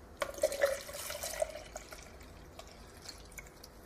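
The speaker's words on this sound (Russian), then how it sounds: "Ставим фильтрик и наливаем нашу разведенную краску." Thinned car paint is poured through a small filter into a SATA 2000 spray gun while painting doors and fenders on a VAZ-1118 Kalina: a quiet liquid trickle with a few soft drips early on, fading into low room noise.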